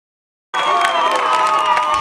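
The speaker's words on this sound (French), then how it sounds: "C'est sous les acclamations du public que le nouveau recteur de l'Institut facultaire des sciences agronomiques, IFA Yangambi, est accueilli" Crowd cheers and shouts in welcome for the new rector of the agronomic sciences institute IFA Yangambi, a loud, dense wall of voices and whoops that bursts in suddenly after half a second of silence and holds steady.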